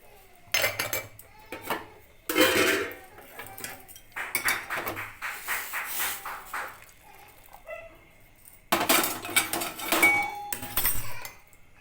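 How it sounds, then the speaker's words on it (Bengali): Dishes, pots and steel tiffin containers being washed at home, with repeated clanks and clinks of metal utensils in bursts, close and fairly loud, with brief quiet gaps between. "এরকম বাসন কোসন সব ধুয়ে নিয়েছি টিফিনের বাসন কোসন"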